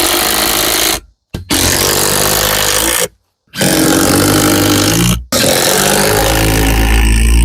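A power drill drives screws into the bottom side of a homemade wooden archery target, running in loud sustained bursts separated by short pauses, close up with no talking.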